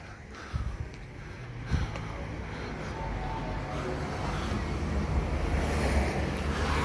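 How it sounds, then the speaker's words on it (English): Ocean waves wash steadily onto the seashore at Hilo, Hawaii, during an evening walk, a continuous broad roar mixed with gusty wind buffeting the microphone and a couple of brief knocks early on. "zoom in so that you could hear the sounds of the waves with audio"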